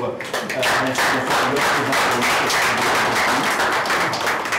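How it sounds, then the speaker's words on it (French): A TV studio audience gives loud, sustained applause, dense close clapping under a voice, on a morning show. "On va ensemble faire un tonnerre d'applaudissements"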